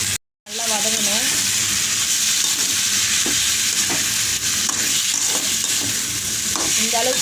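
Tomatoes being sautéed for a spinach curry sizzle loudly in a pan after a short silent gap, with a brief voice at first and scattered stirring scrapes over the steady frying hiss.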